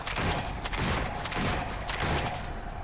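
A favorite gun fired in a modded war video game, rapid repeated shots in a steady rhythm, loud and close with no talking.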